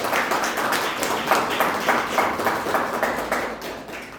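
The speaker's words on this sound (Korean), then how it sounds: "박수로 하나님 앞에 올립니다" A church congregation claps together in a sustained, even round of applause, steady and moderately loud throughout with no voices.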